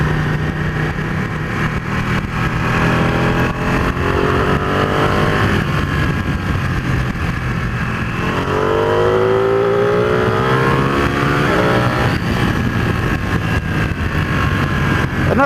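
A motorcycle engine roars loudly and steadily, its pitch rising and falling as the throttle is worked, with no talking.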